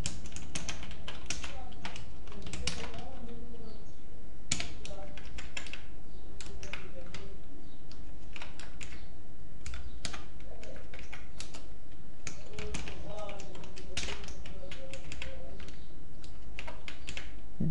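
Code being typed on a computer keyboard during a C programming lesson, a long run of quick, uneven key clicks close up, with soft speech now and then underneath.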